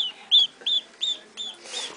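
Young ducklings peep in a series of high, thin calls, about five or six evenly spaced, fairly quiet and close.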